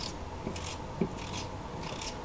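A knife slices peeled, washed potatoes into medium-thin pieces for frying, soft scraping cuts repeating a few times, faint and close.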